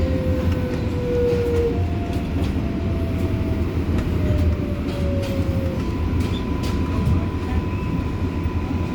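An R142A New York City subway train on the 6 local line runs steadily, with a loud continuous rumble and rising and falling electric motor whines layered on top.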